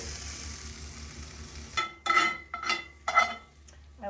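Cashews dropped into a pan of mushrooms cooked down with sherry: a low hum gives way to bursts of sizzling frying with metallic utensil scrapes and clinks, close by, in several short surges.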